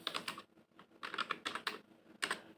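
Quick bursts of keystrokes on a computer keyboard while a message is typed, clustered into three or four close, crisp runs separated by short pauses.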